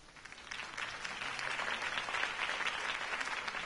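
A crowd at a campaign rally for a city election applauds a speech. The fairly distant clapping starts quieter, then builds into a steady, full burst that holds to the end.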